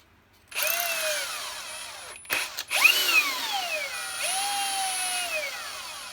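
A Parkside Performance brushless cordless drill spins a bit, its motor whine rising and falling across two runs separated by a brief pause, close and loud with no talking.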